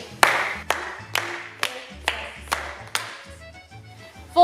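Dancers clap their hands in a steady, evenly spaced rhythm during a Tarantella, about eight sharp claps over a low accompanying tune.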